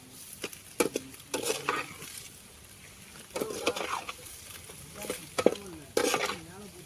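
Cabbage is sautéed in a pan, with intermittent spatula scrapes and clinks over a faint, soft sizzle, heard fairly quietly and close.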